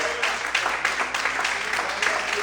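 A church congregation applauding during a Sunday morning service, a steady wash of many hands clapping at moderate volume with no talk over it.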